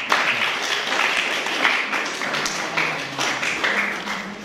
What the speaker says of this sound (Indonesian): Aplaus buat Mbak.